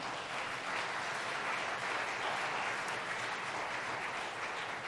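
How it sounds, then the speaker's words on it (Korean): Sustained applause from an audience at a lecture on True Parents, a dense, steady wash of clapping that holds at an even level throughout with no voices over it. "박수 보내주시기 바랍니다."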